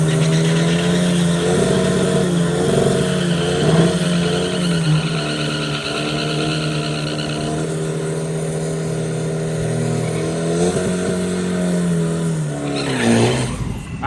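Two turbo diesel trucks race side by side down a drag strip at a Thailand 4-cylinder diesel event, engines droning loud and steady with rising revs and a burst of acceleration near the end.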